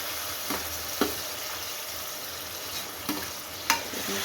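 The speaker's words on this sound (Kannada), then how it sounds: "ಇಷ್ಟ ಟಮಾಟೋ ಹಾಕೊಳಕತ್ತೀನಿ" Tomatoes sizzling in hot oil in a frying pan for coconut sambar, a continuous close hiss of frying broken by several distinct scraping knocks of a spoon as the contents are stirred, with no talking.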